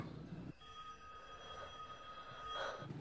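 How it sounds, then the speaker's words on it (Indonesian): A telephone ringing as a sound effect in a horror film, one sustained electronic bell tone starting abruptly after a short burst of other sound and holding steady for a couple of seconds. "dia dikagetkan dengan suara telepon"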